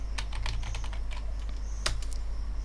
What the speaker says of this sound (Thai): ให้พิมพ์คำว่า composer update นะครับ